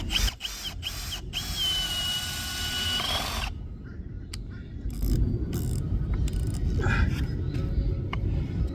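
A high-torque drill whines steadily under load with a sustained tone, then cuts out into rougher grinding and scattered clicks and knocks as the bit works through wood, close and fairly loud.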